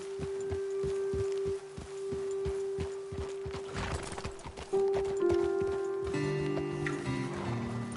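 Horses' hooves clip-clop in a steady walking rhythm on a road in the video game Red Dead Redemption 2, fairly close, over a sustained musical tone, with a horse whinny and shifting music later.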